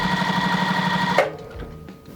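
A sewing machine chain piecing quilt pieces, stitching in a steady fast whir for about a second before stopping, followed by quiet handling sounds; loud and close with no talk.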